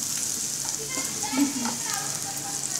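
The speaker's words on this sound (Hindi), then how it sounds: "इसी में डालती हूँ धनिया पाउडर ये अच्छे से भुन जाएगा" Turmeric and coriander powder frying in oil in a pan, a steady hissing sizzle with soft stirring scrapes throughout, close and continuous.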